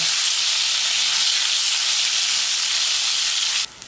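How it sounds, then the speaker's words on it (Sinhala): Dried fish (karawala) frying in a pan over ordinary heat, a continuous bright sizzle and hiss held evenly close up, cutting off abruptly near the end. "සාමාන්‍ය ගින්දරේ තියාගෙන කරවල ටික බෙදෙන විදිහට බෙද ගන්න ඕනේ."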